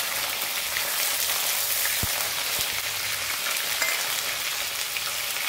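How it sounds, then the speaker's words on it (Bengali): Capsicum fries in a mustard sauce for a tilapia fish curry, giving a steady dense sizzle with a couple of faint knocks, while a voice speaks briefly over it. "এবার এর মধ্যে আমি এই ক্যাপসিকামটা দিলাম, এটা একটু ভেজে"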